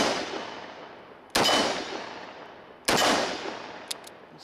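Two loud, sharp gunshots from a Ruger LCR .357 Magnum revolver, spaced about a second and a half apart, each with a long decaying echo trail and faint clicks of the revolver's action after the second.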